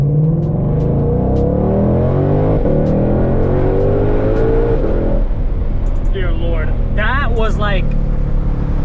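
Heard from inside the cabin, a Shelby GT500 in normal mode accelerates hard with a loud engine note climbing steadily in pitch. A shift about two-thirds through drops the tone, followed by brief chirpy sounds.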